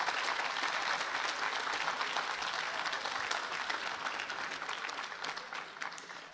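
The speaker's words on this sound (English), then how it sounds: "Please give them all a big round of applause." A large audience applauds at a university commencement ceremony, dense clapping that is loud at first and gradually thins and fades over several seconds.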